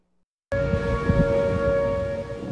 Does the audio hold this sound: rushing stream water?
no